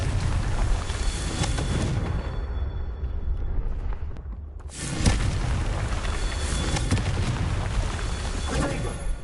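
A Confringo spell blasts in Hogwarts Legacy, a fiery magical explosion that hits with loud booming bursts, one after another with a brief lull between, over dense rumbling game noise.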